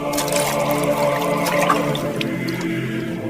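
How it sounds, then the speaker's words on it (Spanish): Water pours into large stone jars for a wedding feast, a steady continuous splashing and trickling stream heard close and fairly loud throughout, with no one speaking. "llenen de agua las tinajas."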